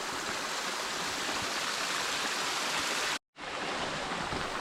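A rushing waterfall and stream in the White Mountains roar as steady, dense broadband water noise, loud and close, with a brief cut of silence partway through.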